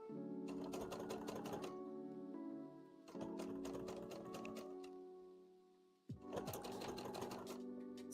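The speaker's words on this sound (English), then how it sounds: "I just sew this on here and then cut it out" A sewing machine stitches a Meta Knight plushie in three steady runs, close and clear, each ending with a short pause and a knock before the motor starts again.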